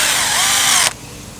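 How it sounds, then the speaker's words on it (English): An electric drill drilling metal whines at high speed, loud and close, then cuts off abruptly, leaving a low hum. "I think I'm gonna have to drill it bigger."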